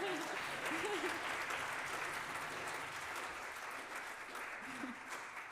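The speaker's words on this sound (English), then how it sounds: "Yeah, you can clap." An audience at an outdoor town-square music event claps in a sustained burst of steady applause, with some voices mixed in under it.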